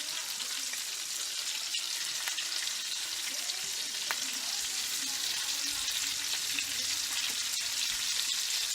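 Meatballs for a low-carb dish fry in a pan, giving a steady, close broadband sizzle that runs the whole time, with a few faint clicks and soft background sounds beneath it.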